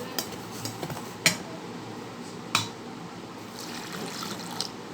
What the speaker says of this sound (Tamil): நம்ம தண்ணி ஊற்றி நம்ம கரைச்சி எடுத்துக்கலாம்